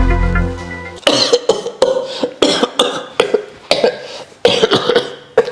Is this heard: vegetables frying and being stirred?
no